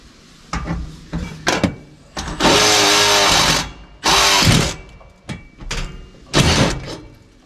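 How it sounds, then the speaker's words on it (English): A power drill with a larger bit bores through a wall to fit a DuraPlus chimney pipe for a wood stove. Loud, close whirring bursts of a second or so alternate with clunks and handling knocks. "But I think I want to get a bigger drill bit."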